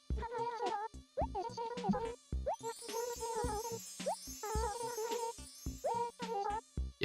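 A mosquito buzzes in the Animal Crossing video game, a thin whining drone that dips and rises repeatedly alongside chiming game music and plopping effects, with no talking.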